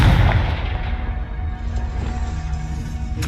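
A Confringo fire spell in the Hogwarts Legacy video game explodes as a deep boom at the start, leaving a rumbling, crackling tail that fades over a few seconds.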